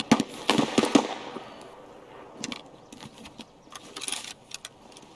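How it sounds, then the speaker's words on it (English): Sharp gunshots crack in Escape from Tarkov, a quick burst of several shots followed by scattered, fainter single reports amid quieter stretches. "There's a lot of shooting."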